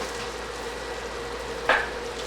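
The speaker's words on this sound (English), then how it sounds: "So we are almost boiling right now." A small pot of sugar and water syrup heats toward a boil on the stove, a soft steady bubbling hiss with one brief clink partway through.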